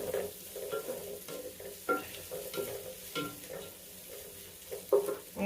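Crushed ginger and garlic frying in a pan, a soft sizzle broken by repeated stirring scrapes at an uneven rhythm, heard close and quietly with no talking.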